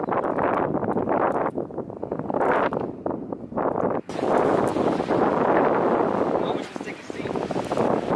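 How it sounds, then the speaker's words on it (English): Strong wind buffets the microphone continuously, roaring broadband noise with gusts, while a person talks underneath. "it's pretty windy up here"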